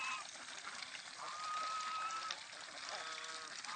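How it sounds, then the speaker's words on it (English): Ducks quack and honk as they leave a net pen into a rice field, a busy chorus of calls heard at moderate distance over outdoor background noise. "Happy ducks. Listen to that noise."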